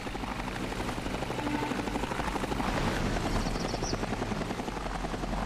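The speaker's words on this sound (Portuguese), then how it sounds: "Olha o helicóptero! Vamos apanhar o helicóptero!" Continuous video game helicopter rotor thumping and engine roar, steady and fairly loud throughout, with no talking.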